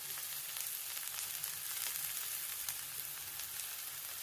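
Curry leaves, onion, chana dal and a green chili sauté in a pan, making a soft, steady sizzle that hisses evenly throughout with a few faint crackles and no voices.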